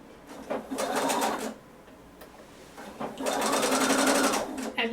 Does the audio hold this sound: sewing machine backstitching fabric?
yes